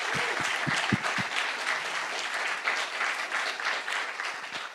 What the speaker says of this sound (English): I want to please give a big round of applause to our 2 main sponsors of the day, Satispay and Phenology